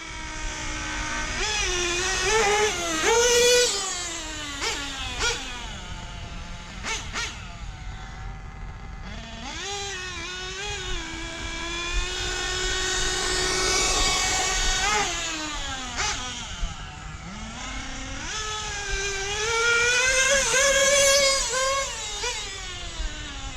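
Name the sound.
cold car engine running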